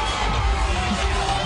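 A packed arena crowd roars for a hometown title defence at a WSOF mixed martial arts event, a loud, continuous wash of cheering and shouting heard from within the crowd.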